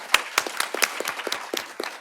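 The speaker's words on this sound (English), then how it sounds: "A big round of applause" A conference panel audience gives a big round of applause, a steady patter of many hands clapping at close range, moderately loud with no talk over it.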